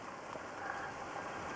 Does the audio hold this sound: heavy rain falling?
yes